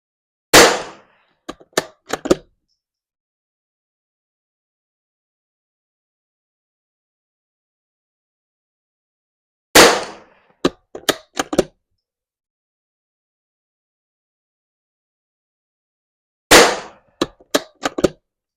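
Springfield 2020 rimfire rifle firing Eley Match ammunition at 50 yards outdoors: three clusters of sharp, loud cracks, each opening with a strong shot followed by several quicker, smaller reports, separated by long silences.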